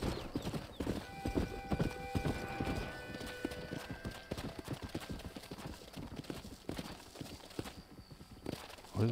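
Horse hooves clip-clop in Red Dead Redemption, a busy run of hoof strikes on the ground with a brief whinny early on, the gallop fading slightly toward the end.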